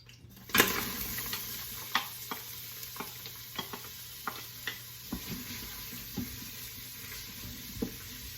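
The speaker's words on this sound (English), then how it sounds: "add some onions to my pan" Onions sizzle in a hot pan under a steady soft hiss, with a utensil tapping and stirring against the pan at a regular rhythm, close and fairly quiet with no talk.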